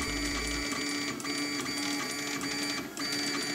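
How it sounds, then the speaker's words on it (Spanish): The belts of an Alfawise Delta A10 delta 3D printer whir and rattle continuously as the carriage moves down the Z axis at raised speed. The noise is steady and fairly quiet, with a faint mechanical whine. "Creo que se oye el ruido que os decía de las correas."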